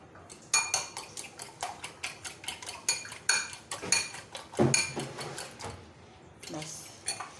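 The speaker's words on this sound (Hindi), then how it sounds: "मैं एक अंडा ले रही हूँ। बीट कर लें।" An egg with a pinch of salt is beaten in a bowl, a fork or spoon clicking rapidly and steadily against the sides in a close, bright, regular rhythm that slows and fades near the end.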